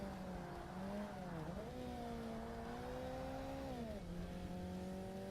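In Forza Motorsport, a Lotus-type race car slides under throttle while its engine drones at steady, wavering revs, dipping and rising as the car drifts, accompanied by a constant loud roar of tires and road noise.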